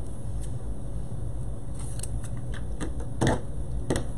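Scissors make several quick, crisp snips as they trim the ribbon tails of a handmade Christmas bow, close and distinct over a quiet background hiss.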